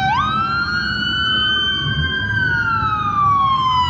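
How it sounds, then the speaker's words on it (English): A loud emergency siren wails continuously nearby, its tone sliding slowly down and then rising again, steady and dominant throughout. "his siren is so loud"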